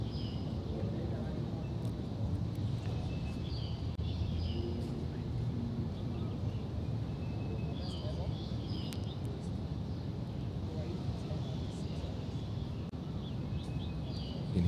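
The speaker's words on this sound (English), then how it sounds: "You can hear the beautiful birds in the background here" Birds chirp and sing in the background at a cricket ground in Kowloon during an under-17 T20 match, with faint repeated calls over a steady low hum of ambient noise and someone talking.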